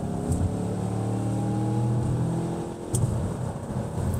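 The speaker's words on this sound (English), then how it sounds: "Wow, that engine sounds really, really good." 2024 Mazda CX-5 Turbo engine pulling hard while accelerating onto an interstate, a steady rising drone with a brief dip near the end before it keeps climbing, loud and close from inside the cabin.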